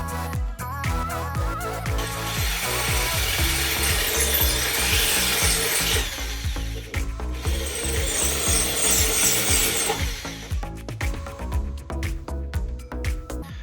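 Holes are cut into a van's metal body to fit a dash cam bracket, producing a loud, continuous rasping grind with rhythmic scraping strokes and brief pauses, close by and without talk.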